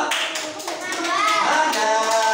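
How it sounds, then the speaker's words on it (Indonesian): Group of children in a classroom clapping hands, a brief burst of clapping blended with excited children's voices, fairly close. "Ya, tepuk tangan dari kelompok"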